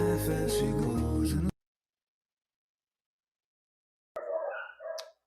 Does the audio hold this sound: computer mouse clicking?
no